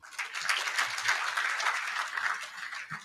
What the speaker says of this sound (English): let's clap for that team.